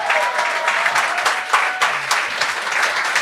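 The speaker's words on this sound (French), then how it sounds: "on peut l'applaudir" Audience applause at a televised talent show, a dense burst of clapping from a crowd sustained for a few seconds.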